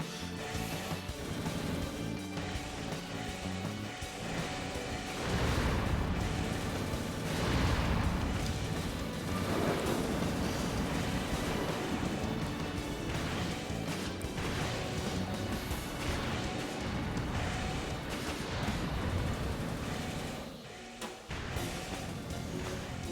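Handgun fire in the mecha combat game Armored Core 3, heard as loud, dense bursts of shots and impacts within a continuous barrage of battle noise that fades near the end.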